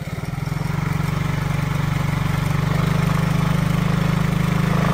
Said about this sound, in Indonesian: Motor kembali berjalan secara normal.